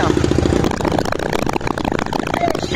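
A carbureted 160cc motorcycle running on ethanol with a 65.5 mm piston idles loudly and close, its rapid, slightly lumpy firing starting fast after start-up and then settling lower.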